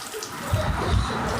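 Water splatters and drains steadily from a freshly washed, wrung-out bedsheet, a close, continuous wet pouring and dripping without speech.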